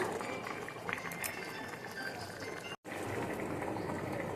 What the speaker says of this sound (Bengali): মাছগুলো দিয়ে একটু ফুটিয়ে নামিয়ে নেব